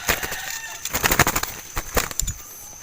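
Limukon doves kept as breeder birds are released and take off, making clusters of quick, close wing-flaps in uneven bursts, with no talking.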